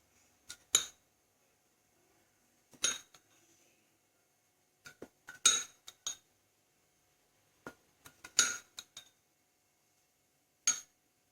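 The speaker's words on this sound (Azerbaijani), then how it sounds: "və bunu hamısını qarışdırırıq." A spoon clinks sparsely against a pot as milk, sugar and flour are stirred together for a cake cream, giving quiet isolated taps in small clusters separated by near silence.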